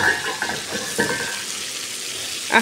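Sea fish sizzles steadily in a hot wok, sticking to the pan, with a few clanks of a utensil scraping and stirring.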